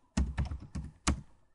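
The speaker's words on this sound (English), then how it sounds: "let me type watch my video" Typing on a computer keyboard, with four distinct bursts of key presses in quick succession at close range and no voices.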